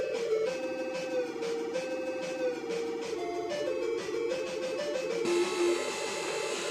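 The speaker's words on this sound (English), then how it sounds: "Oh, bleeper sound, bleeper sound." Beeper music from the ZX Spectrum game Double Deflector plays as a thin, buzzy single-voice tune with stepping notes, steady and moderately loud with no talking over it.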